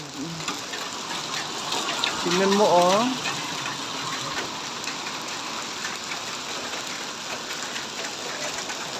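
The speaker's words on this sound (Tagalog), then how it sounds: "lakas ng yelo" Heavy hailstorm in Saudi Arabia, a steady dense clatter of hailstones pelting surfaces nearby throughout, with a person talking over it and a brief swell of louder impacts partway through.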